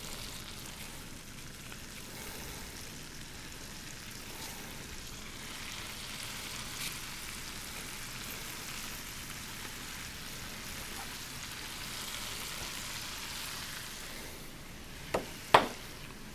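Greens sizzle in hot bacon grease in a pan, a steady, soft, even crackle running throughout, with a couple of brief utensil knocks near the end and no speech.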